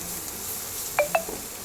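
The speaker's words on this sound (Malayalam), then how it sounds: "സവാള ഇട്ടിട്ട് ഒന്ന് ഇളക്കി കൊടുക്കുന്നതാണ്." Onions stirred in a pan with butter and garlic, heard as two short, bright metallic clinks of a utensil against the pan over faint low background noise.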